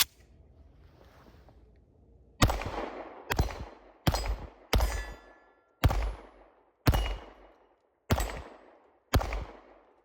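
Eight sharp, loud pistol shots from an S&W 3913 crack at an outdoor range, spaced unevenly about a second apart, each ringing out with a short echoing decay, after a quiet stretch with faint background noise.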